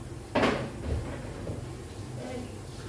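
An oven door in a home kitchen opening with a single solid clunk, followed by faint rustling as food goes in, with someone speaking softly nearby.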